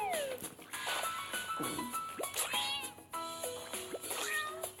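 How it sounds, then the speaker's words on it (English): Several cartoonish cat meows, high and sliding, come one after another over light background music and game sounds. "Meow."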